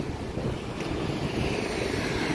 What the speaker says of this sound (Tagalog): sarap po ng hangin dito, malamig-lamig.